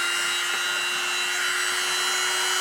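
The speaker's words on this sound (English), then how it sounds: "Dremel" A Dremel rotary tool grinds a hole into the roof rack of a Rock Van CR-18P, giving a steady, close, continuous whining buzz with no pauses and no voices.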